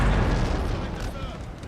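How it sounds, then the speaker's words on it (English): Artillery fires in a Napoleon: Total War battle, a deep rumbling boom that fills the mix and rolls away over a second or so. "I'll just watch the artillery firing"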